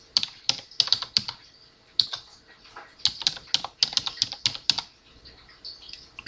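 Bursts of typing on a computer keyboard, clusters of quick light key clicks separated by short pauses, close and clear with no voices.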